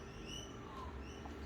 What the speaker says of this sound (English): I can hear the birds making their lovely calls outside, magpies